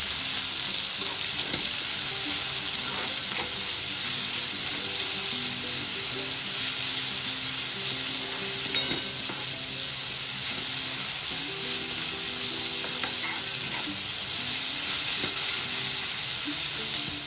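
Onions frying in a pan until reddish, giving a steady, loud sizzle throughout with faint occasional stirring taps and no voices.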